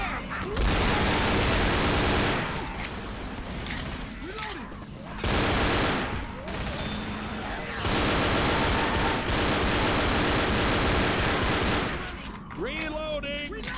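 Rapid bursts of pistol fire from dual pistols in the Left 4 Dead video game, loud dense volleys separated by brief pauses, with game effects and voices in the mix.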